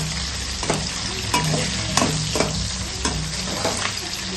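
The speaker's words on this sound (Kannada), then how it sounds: "ಎಣ್ಣೆಲಿ ಚೆನ್ನಾಗಿ ಫ್ರೈ ಆಗಬೇಕು" Green chillies frying in hot oil for egg rice, a steady close sizzle with a few soft stirring scrapes breaking through, and no voices.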